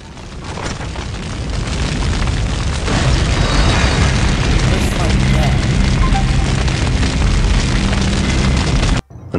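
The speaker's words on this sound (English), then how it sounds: "Another bomb exploded inside the closest slum building." A bomb blast inside a slum building in the video game Max Payne Mobile, a loud sustained booming roar with rumbling debris that holds for several seconds before cutting off abruptly.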